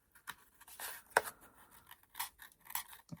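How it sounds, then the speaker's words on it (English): Scissors snip through thick cardboard to cut out a nose shape, with irregular close crisp cuts and a sharp snap partway through, plus light rustling between strokes. "I'm going to cut out a nose. And I'm going to use cardboard on one."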